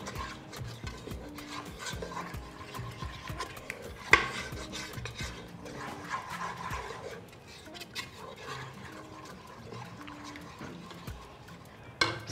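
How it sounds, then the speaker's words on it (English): A spoon scrapes and clatters against a pot while isi ewu, a spiced goat meat mixture, is stirred by hand, with repeated soft rubbing strokes and a couple of sharper knocks. "make sure you stir very well"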